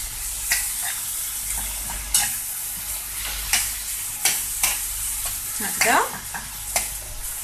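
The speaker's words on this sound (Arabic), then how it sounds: "ونخلطو كلشي مع بعض. خلاوهم يتقلو مليح باش يطيب لنا الدجاج هو والفلفلة" Chicken and bell peppers fry in a pan as a gratin is prepared. A constant sizzle runs throughout, and a spoon scrapes and stirs the pan in repeated sharp strokes. A voice briefly speaks a single word.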